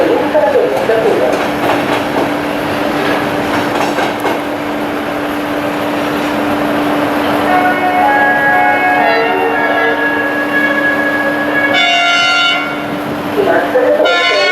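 A train rolls through Suceava railway station with a steady, loud rumble and a sustained tone, brief horn-like bursts later on, and talk heard over the noise.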